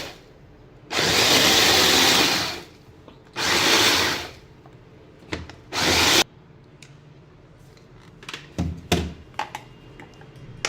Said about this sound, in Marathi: आता आपण वाळलेले तरी पण थोडासा एक गरका चॉपरमध्ये फिरून घ्यायचा आहे